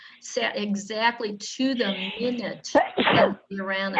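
A single sharp sneeze bursts out briefly in the middle of steady conversational talk, with people speaking before and after it.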